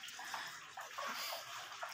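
Dirty flood water pours from a drain in a house flooded by rain, a constant rushing, splashing gush with no pauses, fairly faint and steady.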